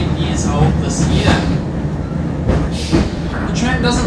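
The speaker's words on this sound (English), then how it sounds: "the tram you're currently riding in is number 466" A historic tram built in Melbourne in 1926, number 466, rumbles along the Auckland Dockline with a steady low rolling roar and rattling clatter heard from inside the car, while a voice talks over it.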